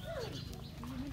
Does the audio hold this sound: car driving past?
no